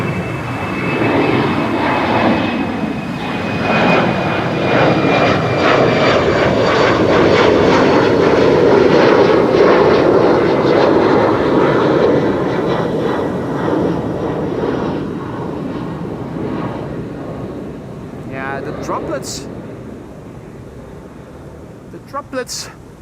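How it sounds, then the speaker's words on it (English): An Embraer 190 jet takes off from Schiphol's runway 24 (Kaagbaan) with rain setting in, its engine roar loud and sustained through the first half before fading into the distance, with wind noise and a few faint clicks near the end. "It's an Embraer"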